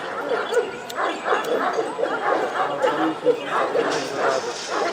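Kangal dogs at a Kangal competition bark and yip repeatedly in short bursts amid ongoing chatter and background noise, fairly close by.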